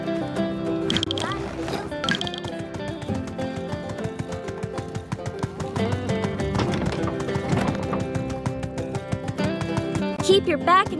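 A horse gallops in the video game My Time at Sandrock, its hooves clip-clopping in a quick, steady rhythm under game music, with a brief whinny.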